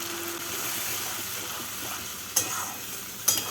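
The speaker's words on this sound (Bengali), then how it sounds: "এবার মশলাটাকে ভালো করে কষিয়ে নেব" Spice paste stir-fried in oil in a pan while making a fish-head and cabbage ghonto, giving a steady close sizzle with stirring, broken by two sharp utensil scrapes near the end.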